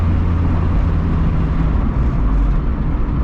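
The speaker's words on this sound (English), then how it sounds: "As you can hear, bro, I put the muffler back on" Honda Civic driving at night with its muffler refitted: a steady, low engine and road rumble from inside the car, even and continuous with no talking.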